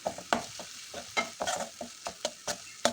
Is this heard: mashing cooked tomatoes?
yes